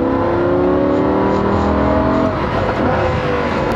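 A Lamborghini Huracan's engine accelerates hard and close, its loud rising wail climbing steadily in pitch before cutting off midway into a lower, steady drone.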